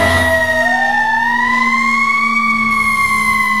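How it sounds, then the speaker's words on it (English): Wailing fire truck sirens from the EmergeNYC game, loud and continuous, with a steady rising and falling tone layered over a low rumbling engine and no talking. "So as you can hear, it's quite crazy with the sirens and everything."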